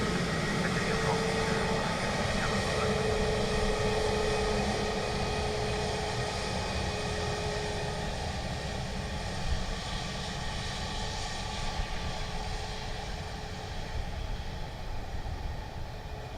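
An airliner on approach to Dublin Airport gives a steady, moderately distant engine roar that holds throughout with a faint whining tone and no talking.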